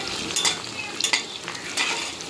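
Fried onions being stirred into chicken dum biryani in a pan, a soft scraping and sizzling texture with a few louder spoon strokes, close up and steady with no talking.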